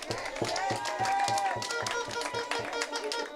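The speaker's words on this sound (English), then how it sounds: "Let's give her a big round of applause" A crowd applauding at an NNP public meeting in Rose Hill, with steady, dense clapping carrying a regular thumping beat underneath and a busy, lively room tone throughout.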